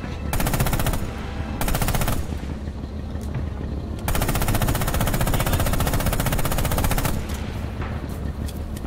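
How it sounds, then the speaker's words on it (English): Rapid machine gun bursts mixed with pistol shots in the tank video game Panzer In The Mist, loud and sustained rattling with brief gaps between volleys. "I heard machine gun and pistol rounds"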